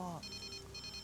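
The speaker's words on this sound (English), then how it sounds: "Did he just get a phone call?" A phone rings in the video game Kamen Rider: Memory of Heroez, a short electronic ringtone with repeated bright tones that follows a brief spoken word and plays fairly faintly.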